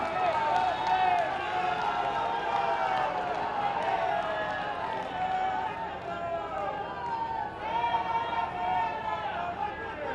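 Loud, steady applause from a large audience at a public development-project inauguration in Kanpur, with crowd noise filling the whole stretch.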